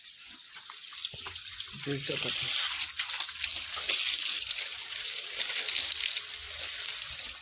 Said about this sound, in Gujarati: આગળના ભાગમાં પાણી ચાલુ કરી દીધું